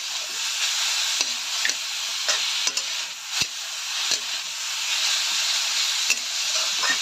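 Vegetables for a Bengali vegetable chop fry in oil, giving a loud, dense, continuous sizzle, while a spatula scrapes the pan every second or so in irregular sharp strokes.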